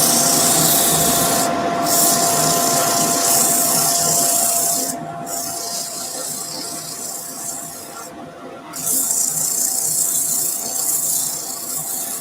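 Steady, close rasping of 100-grit sandpaper against a spinning resin and banksia apple on a wood lathe, with a dust extractor roaring beneath; the scratchy hiss briefly eases and shifts a few times without stopping.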